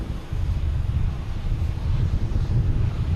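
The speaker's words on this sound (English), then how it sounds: "Yep, should be a JetBlue heading to DC. An E190." A JetBlue Embraer E190 jet airliner at Boston Logan Airport gives off a steady low roar from a distance, blended with buffeting wind across the microphone and no voices.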